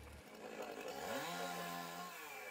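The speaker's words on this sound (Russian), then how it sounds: "используя бензопилы, лопаты и топоры" A chainsaw cuts trees and brush to clear a firebreak against a forest fire, its engine rising into a sustained, steady whine that stays fairly distant and runs without voices.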